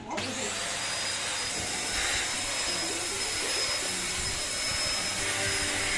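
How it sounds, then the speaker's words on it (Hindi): A vacuum cleaner runs during late-night Diwali house cleaning, a steady loud whooshing roar that continues unbroken throughout with no voices. "इसका पूरा ध्यान वैक्यूम क्लीनर पे है।"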